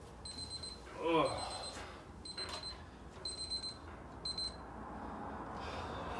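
A workout interval timer beeps in several short high-pitched bursts of rapid tones, moderately close, with a person's heavy breathing and talk around them.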